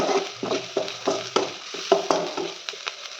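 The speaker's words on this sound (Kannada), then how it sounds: "ಗಾರ್ಲಿಕ್ಕು ಮತ್ತು ಆನಿಯನ್ ನೀಟಾಗಿ ಫ್ರೈ ಆದಮೇಲೆ ಆಮೇಲೆ ಟೊಮೊಟೊ ಆ್ಯಡ್ ಮಾಡಿ" Garlic and onion frying in a pan give off a soft sizzle, punctuated by a series of regular stirring scrapes and clinks roughly every half second, close by and fairly quiet.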